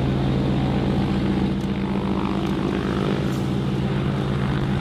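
A Dakota propeller plane drones loud and steady, its engine hum and airscrew beat continuous and close for the whole stretch.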